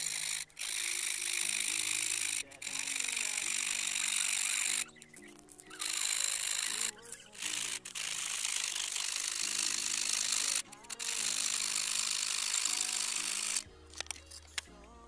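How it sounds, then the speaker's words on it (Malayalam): Hacksaw blade cutting through PVC pipe: close, rasping strokes in long runs with short gaps and a few clicks between them, fairly quiet overall. "ഞാനിവിടെ ആക്സോ ബ്ലേഡ് വെച്ച് കട്ട് ചെയ്യാണ്"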